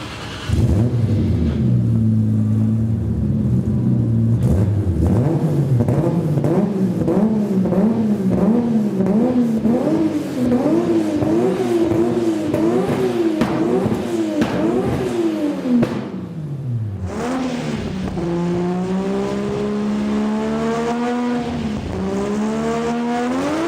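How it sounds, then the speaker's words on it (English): Nissan Skyline GT-R fitted with a GReddy Trust T88-34D turbo, order-made muffler and HKS Step 2 272 kit, revving loud and close in repeated rising and falling blips, then holding a long climbing rev after a short drop. "GT-R with a GReddy Trust turbocharger. This one in particular has a Trust T88-34D with an order-made muffler and HKS Step 2 272 kit."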